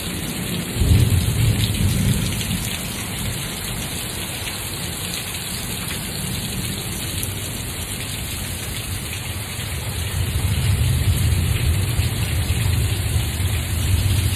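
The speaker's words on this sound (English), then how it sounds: "Oh my gosh, I'm getting rained on." Steady heavy rain pours down outdoors during a storm, with low rumbling thunder rolling underneath at the start and again near the end, continuous and close with no voices.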